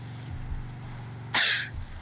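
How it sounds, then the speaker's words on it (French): One short, harsh cough bursts out near the end after quiet low background rumble, followed by a faint trailing sound. "Plus je tousse, plus j'ai l'impression que je fais tousser mon poumon."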